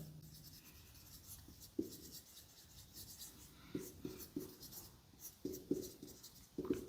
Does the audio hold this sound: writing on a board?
yes